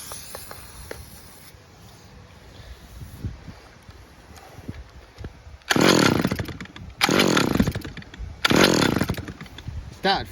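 A STIHL petrol trimmer engine sputters after a start attempt, then revs hard in three loud, rasping bursts of roughly a second each, separated by brief drops to quieter idle.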